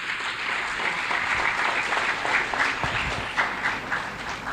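Conference audience applauding at the opening of an international conference, a steady dense wash of clapping hands filling the room, loud and sustained throughout with no talking.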